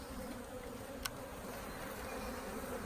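Honey bees buzzing steadily at an opened beehive during expansion, a dense continuous hum close by with one brief click partway through.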